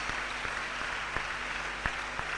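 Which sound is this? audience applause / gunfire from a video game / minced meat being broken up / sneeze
audience applause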